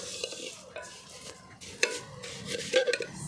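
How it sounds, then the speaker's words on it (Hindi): A spoon stirs vermicelli through ghee in a pot over a village cooking fire, giving soft scraping and light sizzling with a few sharper metal clinks toward the end. "सेवियाँ तो मिक्स हो गई हैं घी में"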